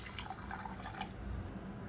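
Water poured into a pressure cooker pot holding black-eyed peas and tomato masala, a continuous low splashing trickle with faint drips, close and steady throughout.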